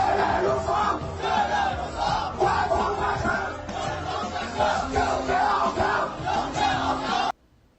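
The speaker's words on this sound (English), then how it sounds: "High school seniors in Hubei attend a pre-exam rally to cheer themselves up." High school seniors in Hubei cheer and shout together at a pre-exam rally, a loud, dense crowd roar rising and falling in waves for several seconds before cutting off abruptly.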